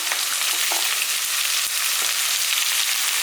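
Two large chopped onions sizzle in a hot pan, producing a loud, dense, even hiss of frying that runs steadily from start to finish with a few soft knocks underneath.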